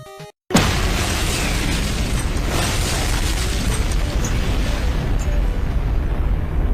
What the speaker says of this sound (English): Oh god, now they're bombing me?